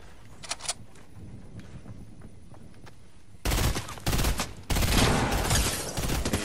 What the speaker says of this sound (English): He's shooting at me from the hill